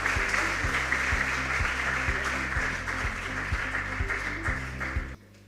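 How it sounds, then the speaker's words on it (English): An audience applauds the sponsors at a school quiz competition: a steady wash of many hands clapping, with low rhythmic thumps underneath, running for about five seconds before cutting off abruptly. "Let's give a hand of applause for our sponsors."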